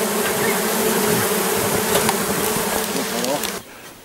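Honey bees fly into a beehive along their flight path, a dense, steady buzzing drone of many insects close by that cuts off sharply near the end.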